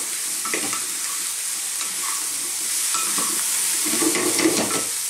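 Spice powders are dry-fried in a pan for sweet potato curry, with steady scraping and stirring strokes over a constant soft hiss, close and continuous, without any talking.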